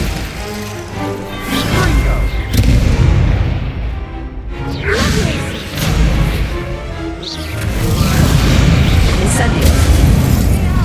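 Glacius freezing spells cast in combat in Hogwarts Legacy, with loud booming bursts and whooshes repeating over about eleven seconds amid busy game action and shouted voices.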